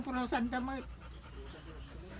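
A dog pants rapidly and whimpers close by in a home, with human voices talking over the first part before the breathing continues more quietly.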